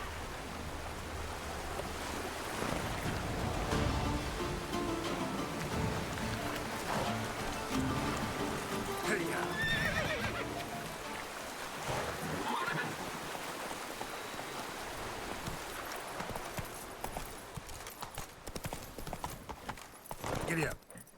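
Roach, a horse in The Witcher 3, gallops with steady rhythmic clip-clop hoofbeats, loud and close, under spoken voices, along with a brief neigh and a washing ambient background.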